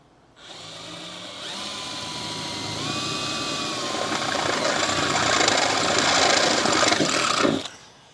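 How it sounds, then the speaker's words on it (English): A power drill with a 1/4-inch bit spins up and grinds steadily through a 1957 Chevrolet Bel Air body for several seconds with a rising, whining pitch, then stops abruptly. "I'm gonna drill a pilot hole for the hole saw in the front hole"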